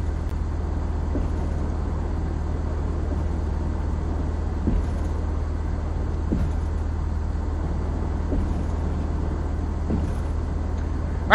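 Simulated aircraft rolling down a long runway in Flight Simulator X, a steady low engine drone with faint intermittent thumps as it coasts without braking, continuous and even throughout.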